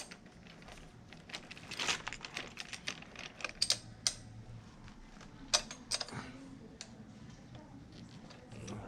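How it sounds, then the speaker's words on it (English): Bolts on the handlebar clamp of a new Chinese 125cc motorcycle being tightened, giving irregular light mechanical clicks and ticks up close at a fairly quiet level, with no voices. "when I tighten these up, I like to tighten the back ones first"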